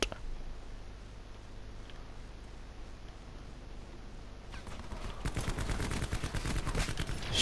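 Rapid gunfire in Call of Duty: Black Ops 4 crackles faintly at first over a low hum, then grows into dense, loud bursts of automatic shots toward the end, with no talking.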